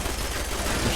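Rapid, continuous automatic gunfire from a machine gun turret in Fallout 4, dense and steady throughout a short burst, loud and close.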